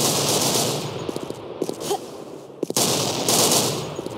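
Gunfire in a competitive team shooter match on the A Side Depot map, with scattered sharp shots and short bursts over a steady wash of game noise and music, a brief lull midway before the sound swells again.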